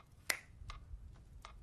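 Sharp finger snaps in a hypnosis scene, one loud crisp snap followed by three softer ones spaced roughly every half second over a quiet low background, with no talking.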